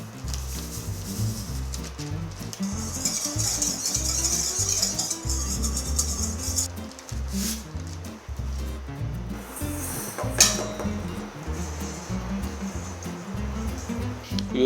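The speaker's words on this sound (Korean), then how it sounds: "반죽 한번 쳐보세요." Bread dough kneaded and slapped by hand in a bakery class, a steady run of soft, thumping, rubbing strokes close by, repeating in an uneven rhythm, with a brief sharper knock midway.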